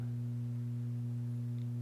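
A steady low electrical hum with strong harmonic bands, like an amplifier buzzing, constant and unbroken throughout with no other sounds.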